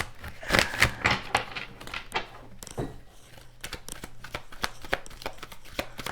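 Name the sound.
shuffling tarot cards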